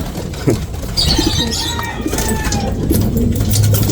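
Soft pigeon coos and bird calls over steady outdoor background noise, with occasional rustling, moderately close.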